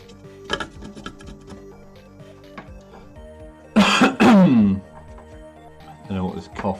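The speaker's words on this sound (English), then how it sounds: "Don't know what this cough is." Two loud, close coughs in quick succession partway through, rising sharply above a quiet indoor room with faint ticking, during a live session painting an Imperial Knight model with silver dry-brushed paint.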